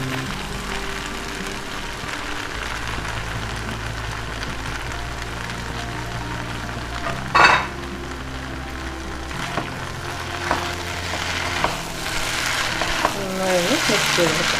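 Cooked rice is mixed into noodles in a hot pan, giving a continuous frying sizzle with a few sharp scraping clatters from the stirring utensil, close and fairly steady throughout.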